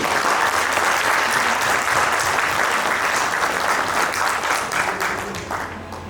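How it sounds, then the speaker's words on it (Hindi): Applause for a process team at a corporate event, a dense, loud burst of many hands clapping steadily for about six seconds before tapering slightly at the end. "तो एक तालियां प्रोसेस टीम की।"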